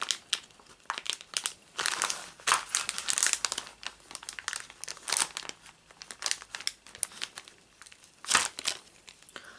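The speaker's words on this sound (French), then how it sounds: "Je vais déjà enlever les agrafes pour déballer les pièces." Close, busy crinkling of plastic packaging as staples are pulled and the numbered parts of an R2-D2 model kit are unwrapped, with sharp crackles and short tearing rips throughout and no speech.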